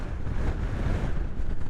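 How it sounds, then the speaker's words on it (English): Wind in Colorado buffets the microphone in a continuous low rumble, a loud, rough roar with no other sounds standing out. "And excuse the wind,"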